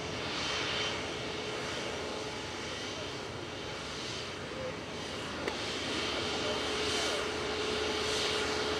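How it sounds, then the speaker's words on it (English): A Singapore Airlines A350-900 lining up on runway 23 left at Manchester Airport gives a steady, even jet engine roar at some distance, with no one speaking. "Singapore 51's next up for departure, just lining up now on 23 left"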